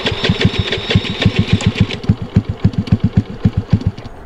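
A Honda Navi motorcycle fitted with a Yoshimura exhaust runs close by, a loud, rapid, steady thumping idle with distinct evenly spaced exhaust pulses and no talking.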